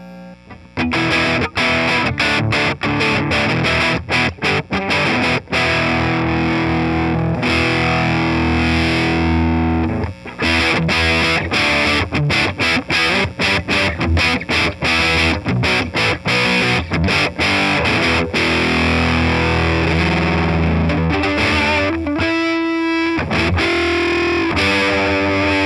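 Electric guitar played through a JHS Japan Fuzz pedal with the guitar volume rolled back, giving a continuous stream of fuzzy, distorted chords and riffs, loud and up front with brief pauses.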